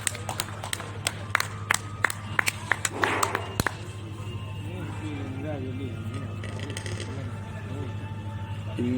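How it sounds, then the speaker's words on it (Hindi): At a poetry gathering on a book fair's cultural stage, the audience gives a round of sharp, spaced claps that fade into crowd murmur, hum and voices speaking. "आपकी स्नेह की, आपकी सम्मान की तालियां आदरणीय विजय प्रसाद त्रिपाठी दादा को मिले।"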